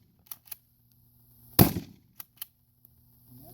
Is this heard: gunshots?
yes